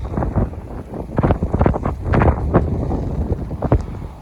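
Strong gusting blizzard wind in Irkutsk buffets the microphone in loud, uneven bursts, roaring continuously through poplar trees with no voices.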